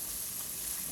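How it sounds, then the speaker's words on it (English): Thai coconut curry chicken sizzling in a hot pan as it gets stirred, a steady, fairly soft frying hiss with no talking. "Get that first stir in."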